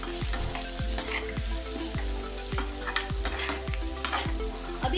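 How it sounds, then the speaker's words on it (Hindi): Tinda curry sizzling in a pan while a spoon stirs it in steady strokes, with sharp scrapes against the metal every second or so over a constant close frying hiss. "ये देखिए, अब आप फिर से अच्छे से चला लीजिए।"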